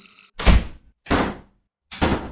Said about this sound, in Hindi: उसे फिर से किसी की दरवाजे की पीटने की आवाज़ आने लगी।